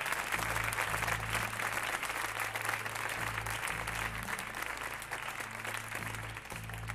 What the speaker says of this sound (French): on peut les applaudir toutes les deux